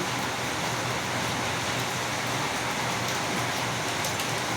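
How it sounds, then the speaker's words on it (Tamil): Heavy rain falls steadily outside, a dense, constant broadband hiss of downpour without pause, fairly loud and close, with no voices. "மழை பெஞ்சிட்டே இருக்குது, நல்ல மழை பெய்யுதுங்க."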